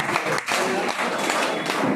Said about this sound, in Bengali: একটা হাততালি।